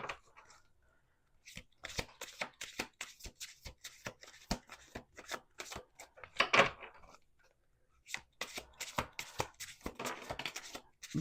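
Playing cards are shuffled repeatedly in quick riffling bursts, close and crisp, with short pauses between rounds and no talking.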